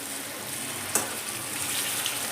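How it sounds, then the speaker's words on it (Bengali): Bread pakoras fry in oil over a lowered gas flame, a steady close sizzle with one brief crackling pop and a faint clink near the middle. "আস্তে আস্তে উল্টো পাল্টে কিন্তু আমি ভেজে নেবো"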